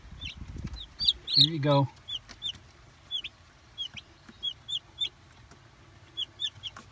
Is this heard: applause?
no